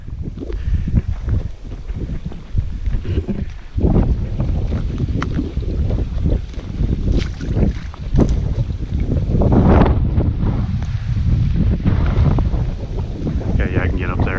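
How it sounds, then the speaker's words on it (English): Strong south wind buffets the microphone while someone walks across the Upper Canyon Dam in the Wichita Mountains, a loud steady roar with gusts and faint footsteps. "Pretty strong south wind now."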